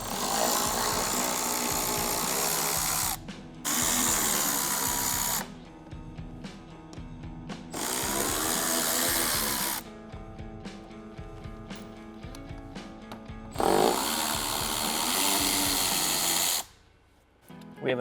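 Power drill running in bursts while removing 10mm bolts from the wheel well of a 2025 Toyota 4Runner, several whirring runs of a few seconds each separated by short pauses, loud and close.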